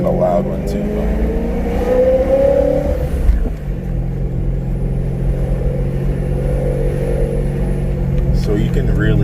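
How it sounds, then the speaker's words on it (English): A supercharged car engine revs and then settles into a steady, loud drone near the microphone, its pitch rising and then dropping to a lower hum, with a breathy whoosh layered over the engine tone. "So you can really hear a lot of supercharger noise now, a lot of whooshing, stuff like that."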